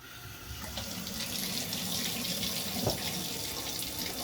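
Tap water runs steadily into a sink, a constant close splashing hiss with no talk over it.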